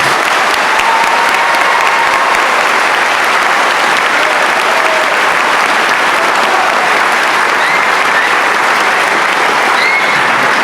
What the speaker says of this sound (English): give a thunderous round of applause to recognize their accomplishments.